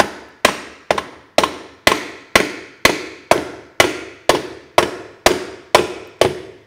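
A hammer taps on the primary dowels of an Iron Sportster motorcycle, about fourteen sharp, loud metallic strikes at an even, steady pace, each ringing briefly before the next, with no voices.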